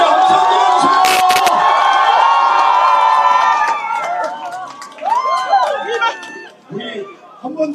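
A crowd at a political street rally in Seoul's Jung-gu Seongdong district cheers and shouts loudly, then the roar fades into scattered chatter and calls.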